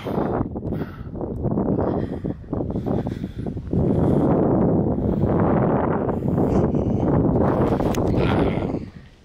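Steady, loud wind buffeting the microphone outdoors in a rough rumbling roar that barely lets up.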